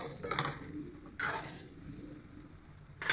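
Spicy brinjal curry being stirred in a pan, a soft sizzle under a few scraping strokes of the spoon, close but quiet, with no talk.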